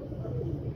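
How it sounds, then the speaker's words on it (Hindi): A pigeon of the Ustad Imam Deen original line gives a single short, low coo, close and moderately loud. "ओरिजिनल कबूतर है, ओरिजिनल।"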